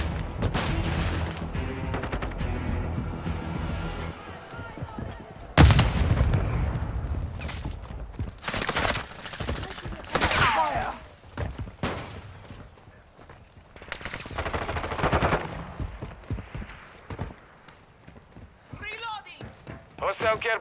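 Gunfire in Call of Duty: Modern Warfare 2 multiplayer: loud bursts of rifle shots and a sharp blast rip through busy game noise, with radio-style callouts and a voice talking throughout.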